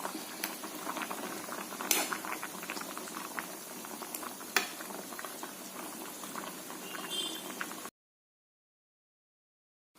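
Pathanamthitta-style fish curry bubbles in a pot, a soft, continuous burble with scattered pops for about eight seconds before it goes quiet.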